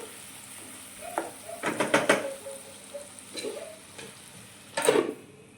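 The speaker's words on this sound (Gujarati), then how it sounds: "ડુંગળી બ્રાઉન કલરની થાય ત્યાં સુધી આપણે એને થવા દઈશું" Chopped onions fry in a pan for a brinjal curry, with a soft steady sizzle broken by a few louder scraping bursts as a spoon stirs them.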